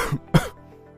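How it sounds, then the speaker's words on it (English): Two short, dry coughs, the first small and the second louder and sharper, each a quick burst with no wet rattle, close to the listener and otherwise quiet. "A dry cough is a cough that doesn't bring up mucus."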